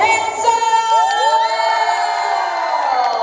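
A loud, sustained shout rings out at a dance contest in Kuta, Bali, a rising, whooping cry with crowd cheering and children shouting around it throughout.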